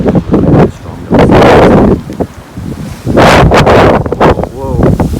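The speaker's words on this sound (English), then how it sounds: "every so often, like every 30 seconds, really strong gusts." Strong wind gusts from Storm Ciara roar loudly into the microphone in heavy surges separated by brief lulls, with a person's voice in between.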